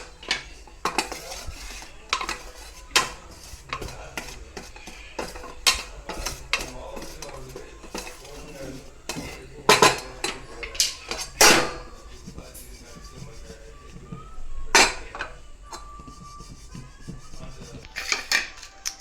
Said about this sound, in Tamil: ஸோ அதே பேனில் இந்த மசாலாவை மட்டும் சும்மா வதக்கிப்போம்